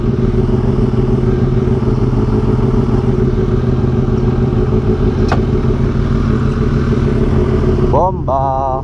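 Kawasaki ZX6R motorcycle fitted with an Austin Racing exhaust runs close by with a loud, steady rumble throughout, briefly dropping in level near the end.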